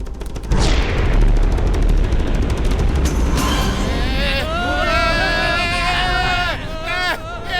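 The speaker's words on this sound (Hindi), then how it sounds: "गाइडेड मिसाइल फायर करो" Cartoon sound effect of a guided missile being fired, a booming blast and rushing roar followed by warbling whistles and zaps, with a cartoon character's voice heard over the start.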